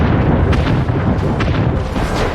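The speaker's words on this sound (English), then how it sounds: "Huge explosions, but minimal damage." Ship cannon fire and explosions in the Anno 1800 naval battle, a dense continuous roar of booms and bursts, loud and close, with no talk.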